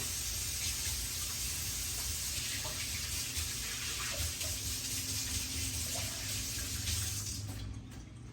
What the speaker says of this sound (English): I'll wash my hands since I have bacon grease all over me